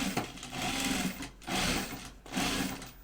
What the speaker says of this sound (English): we're just going to stitch in the ditch.